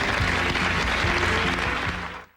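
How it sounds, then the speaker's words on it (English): Studio audience applause on a late-night talk show, a loud, dense wash of clapping that holds steady for about two seconds and then trails off at the end. "Give that man a round of applause."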